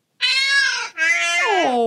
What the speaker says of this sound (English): Oh, it's a kitty. I know, it's cat.